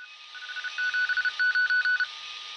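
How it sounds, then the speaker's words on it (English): Morse code received on a heavily modified shortwave radio: a steady beeping tone keyed in quick on-off pulses over a hissy background, fairly clear and alone. "There was also some Morse code to be heard here too."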